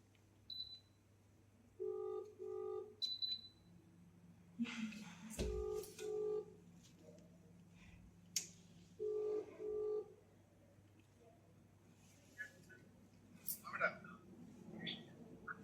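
Several short bursts of phone keypad tones sound in groups, separated by pauses and occasional clicks, fairly quiet over a low steady hum.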